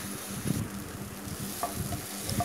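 A chhana filling with salt and oil is stirred in a pan over a steady sizzle, with a few soft scraping and clinking strokes of the spoon against the pan.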